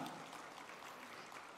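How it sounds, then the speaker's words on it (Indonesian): Applause from a gathered audience honoring Bang Idrus Marham, a steady dense wash of many hands clapping that fills the room evenly throughout, fairly distant and without any voices. "tepuk tangan untuk Bang Idrus Marham"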